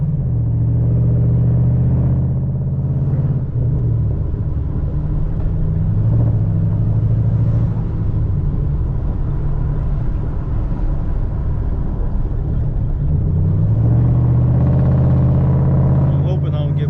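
Deep, steady exhaust rumble from a 2010 Camaro SS (L99) running straight pipes, heard from inside the cabin with a continuous low drone that swells slightly as the engine pulls, while someone talks over it throughout.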